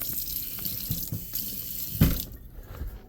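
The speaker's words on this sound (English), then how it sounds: "we got water coming out of there" Water runs from a plumbing pipe during a home DIY repair, a steady loud rush with a few splashy bursts and a strong gush near the middle before it eases to a thinner flow.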